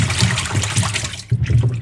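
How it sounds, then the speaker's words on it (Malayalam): Tap water runs steadily over tomatoes being washed, a close, continuous splashing trickle with brief swells as the fruit is turned under the stream. "അടുത്ത് നമ്മുടെ ടൊമാറ്റോ കഴുകുക."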